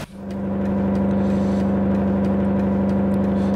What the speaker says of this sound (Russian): очень громкий двигатель, ну согласитесь